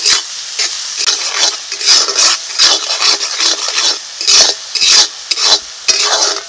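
A spice paste of tomato, salt and turmeric is stirred and fried in a pan: loud, rhythmic scraping strokes repeat over a sizzle.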